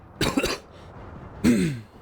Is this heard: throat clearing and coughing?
yes